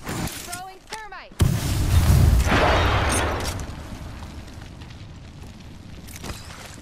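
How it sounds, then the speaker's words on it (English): A thermite grenade thrown in the video game Apex Legends lands with a heavy boom, then a roaring, crackling burn that slowly fades, with talking over it. "Throwing thermite."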